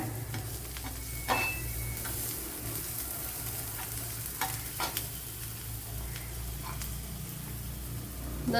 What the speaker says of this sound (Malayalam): നമ്മുടെ പാവയ്ക്കൊക്കെ ഇവിടെ ഫ്രൈ ആയിക്കൊണ്ടിരിക്കുന്നുണ്ടല്ലേ